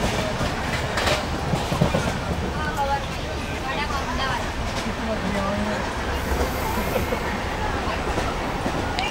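An Indian sleeper train without air conditioning runs steadily on its rails, with continuous rumble and rhythmic clickety-clack. Voices chatter beneath the train noise throughout.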